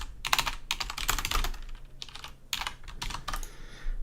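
Code is typed on a computer keyboard in rapid, close-up clattering runs of keystrokes, broken by brief pauses, with no talking over it.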